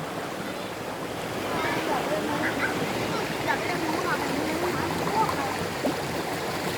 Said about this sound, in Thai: ตอนนี้อยู่ที่ น้ำตก ตายายนะฮะ